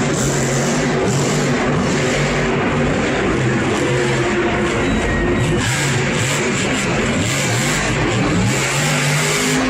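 A Monster Jam monster truck, Dragonoid, roars through a freestyle run at a Syracuse stadium show in 2022, its engine revving loud and continuous under crowd noise throughout.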